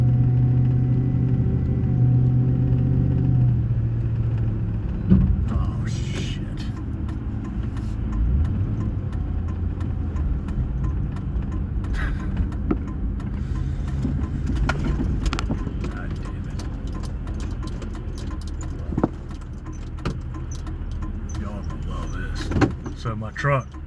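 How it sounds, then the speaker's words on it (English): An old truck with no gauges and no heat rumbles steadily at low pitch while driving, with rattles and clunks scattered through the cabin and a person talking over the engine. "Let's just say this is an old truck."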